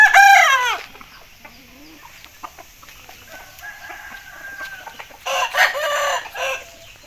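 A rooster crows loudly up close, followed by scattered soft clucks from hens, then another burst of crowing and clucking near the end.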